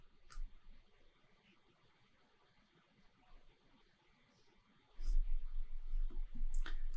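Computer mouse clicks come as a few sharp, isolated ticks spaced seconds apart, heard close over a low background rumble and hum.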